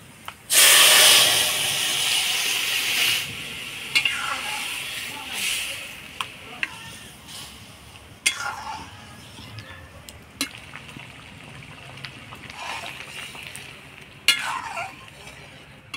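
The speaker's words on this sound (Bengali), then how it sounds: "এবার ফোড়নে ডাল দিয়ে দিব।" Lentils poured into hot tempering oil with dried chilli, black cumin and browned chopped onion set off a loud burst of hissing sizzle that eases into a softer frying crackle, broken by stirring clinks, while someone talks now and then.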